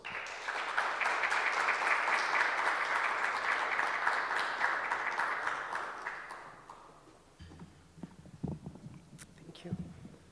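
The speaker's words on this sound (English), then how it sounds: "Please give her a round of applause" Applause welcomes the CEO to the stage at a launch event, a full round of sustained clapping for about six seconds that fades out, followed by a quieter stretch with a few scattered sounds and light voices.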